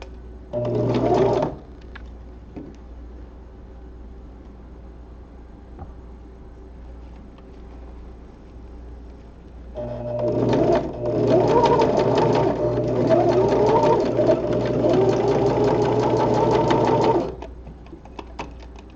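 A sewing machine stitches across the bottom palm seam of a spandex glove in two runs, a short burst and then a longer steady whirring stretch, loud and close with almost no talk.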